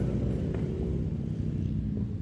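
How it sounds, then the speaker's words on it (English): About fourteen Harley-Davidson motorcycles idle roughly a hundred yards away, giving a steady, low, deep rumble that stays constant and fairly faint throughout. "There's like 14 motorcycles like 100 yards away from me, all Harleys."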